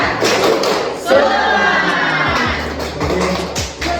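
A group in an Indonesian-for-foreigners class does a rhythmic spirit clap, with sharp, evenly spaced claps and thumps mixed with lively group voices, close and loud.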